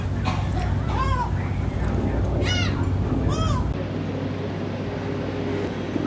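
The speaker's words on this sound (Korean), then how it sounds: "머리 위로 갈매기들 계속 날아다녀요." Seagulls flying overhead at a spring cherry-blossom campsite give three separate harsh calls over a steady low rumble.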